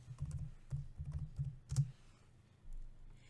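Keys on a computer keyboard are typed in quick, faint bursts of soft clicks, then pause briefly in a quiet room.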